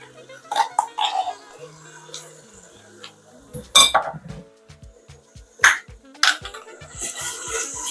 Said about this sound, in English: Just make sure that you're continuously stirring your stew so that it doesn't get burnt.